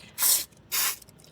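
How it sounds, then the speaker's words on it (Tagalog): Two short hissing bursts of aerosol spray inside a car with a smelly air conditioner, close and fairly loud with a brief pause between them. "Mag-spray tayo."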